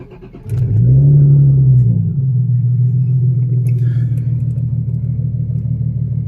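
A car running on E85 ethanol blend cranks and catches, revs up loudly for a moment, then settles into a steady, close idle.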